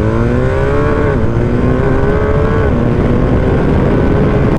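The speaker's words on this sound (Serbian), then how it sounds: "Naked na steroidima ili naked varijanta BMW R1250 GS-a danas je na testu kod mene na kanalu." A 2024 BMW R1250R naked motorcycle's engine drones steadily and loudly on a test ride, its pitch rising and falling through gear changes with constant close-up road and wind noise.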